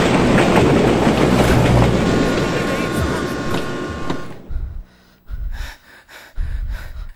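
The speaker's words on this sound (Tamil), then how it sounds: "ஏய் ரயில் வருதுப்பா, பாத்து போப்பா." A train rumbles past close by, loud and steady for about four seconds, then cuts away to quieter, broken background noise.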